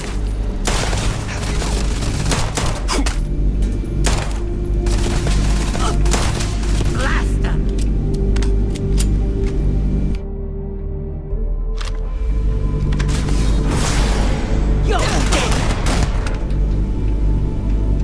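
Sustained covering gunfire in the video game Starfield, with rapid, loud bursts of shots and booms rattling on and off across the whole stretch, broken by a brief lull near the middle.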